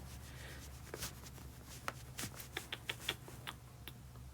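A board is erased with quiet rubbing strokes and light scattered taps, faint and close, with no talking.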